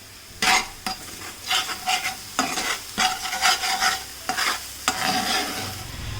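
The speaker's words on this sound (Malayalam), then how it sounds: "1 ടീസ്പൂൺ ഗരം മസാല പൊടിയും 2 ടീസ്പൂൺ കുരുമുളക് പൊടിയും 2 ടീസ്പൂൺ മല്ലിപ്പൊടിയും പാകത്തിനുള്ള ഉപ്പും കൂടി ഇട്ട് ഇതൊന്ന് ഇളക്കി കൊടുക്കാം" Garam masala, ground pepper, coriander powder and salt are stirred in a frying pan, with bursts of sharp scraping and clattering strokes over a soft sizzle, close up and with no voices.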